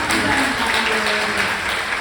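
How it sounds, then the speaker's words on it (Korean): An audience at a book talk gives a round of applause, a steady dense patter throughout, with a voice faintly present beneath it. "박수 크게 한번 더 드리겠습니다"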